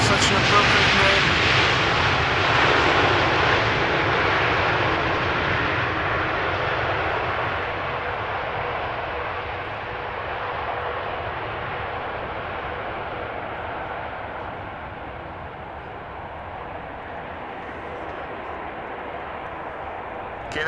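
A KLM Boeing 787-10 Dreamliner jet arrives at Amsterdam Schiphol Airport, its loud broadband engine roar close at first and then slowly fading and softening as the airliner passes and rolls away.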